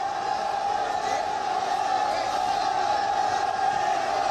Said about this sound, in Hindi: लोग खड़े हुए हैं, नारेबाजी कर रहे हैं।